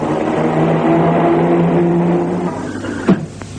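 A car in a 1960s–70s television ad: a steady engine drone with a tonal hum for a few seconds, then a sudden short loud impact-like burst near the end, with no voices.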